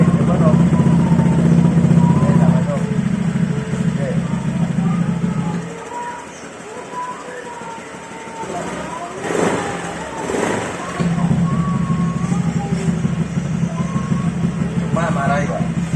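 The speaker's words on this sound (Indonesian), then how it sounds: "Kita dengarkan suara idle-nya." Honda Vario 150 scooter fitted with an ABF Racing exhaust idles with a steady low, throbbing hum, dropping away for several seconds midway before returning; loud and close, with talking over it.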